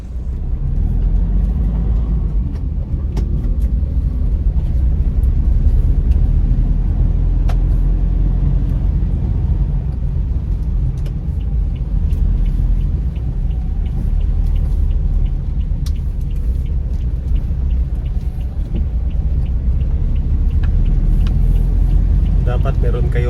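Van driving on a road with a steady low engine rumble and road noise throughout, constant and fairly loud, with a voice talking over it.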